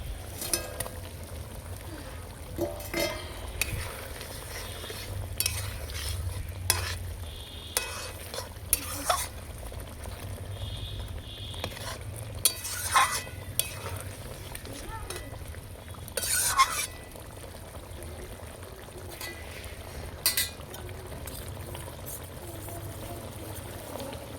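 Rohu fish with capsicum and onion cooking in a pan, a low constant sizzle broken by frequent scraping stirs and utensil knocks, close by.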